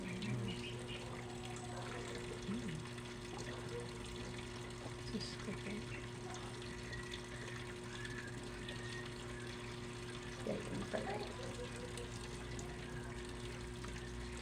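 Water runs strongly and steadily from a repaired Whirlpool washing machine, making a constant rushing gush with a pump-like hum beneath it. The sound is continuous and moderately loud, and occasional faint sounds occur close by.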